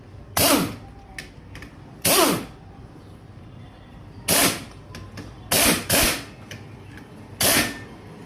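A hand tool tightens a rod on a car during clutch plate repair work, with six sharp, loud ratcheting bursts spaced unevenly among quieter clinks.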